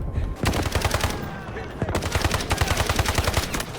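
Counter-Strike rifle fire rattles in rapid, loud automatic bursts that fill nearly the whole stretch, with a short gap near the middle before the shooting resumes just as densely.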